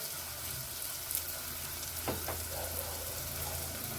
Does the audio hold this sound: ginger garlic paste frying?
yes